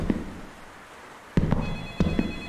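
A telephone rings in a horror video game. After a soft opening chime and a quiet stretch come two short, sharp ring bursts, close and fairly loud, with no talk.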